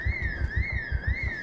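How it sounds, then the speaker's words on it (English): An alarm sounds in the Project Zomboid video game, a steady electronic tone wavering up and down in a repeating siren pattern over a fast, regular low pulsing beat. "they should be going after where the alarm is"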